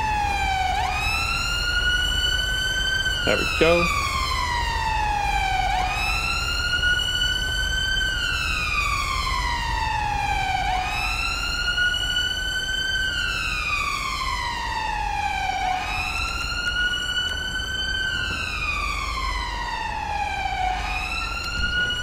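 A city ambulance siren in GTA 5 wails in long rising and falling sweeps, loud and continuous, with a brief low vehicle rumble beneath and a short spoken remark partway through.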